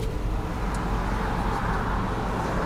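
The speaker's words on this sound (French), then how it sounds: "il y a des gens qui passent avec des minibus et tout" Minibuses and other traffic pass along a road in Iraq, giving a steady, fairly close rumble of engines and tyres that holds without a break, with no clear speech over it.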